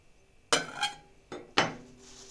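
A pot being set on a stove, about to melt homemade butter: several close, bright metallic clanks and knocks in an uneven cluster, each ringing briefly in a quiet kitchen.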